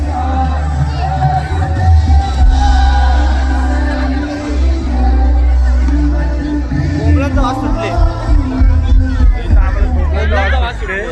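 Festival crowd hubbub at Agri Mahotsav in Badlapur, a loud, continuous babble of many voices with scattered whoops and shouts rising over dense chatter.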